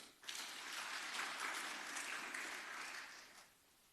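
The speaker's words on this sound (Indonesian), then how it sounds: "Tepuk tangan bagi Tuhan" Congregation applause during a church sermon, a broad steady burst of many hands clapping that swells quickly and fades out near the end, fairly faint overall.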